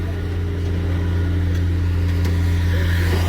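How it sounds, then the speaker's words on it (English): An Audi car engine hums steadily at close range with a low, constant drone, growing slightly louder throughout as it drives away. "There the car goes."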